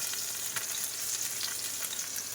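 Steady, dense sizzling of eggplant frying in hot oil, close and continuous, with a few brief crackles and stirring scrapes.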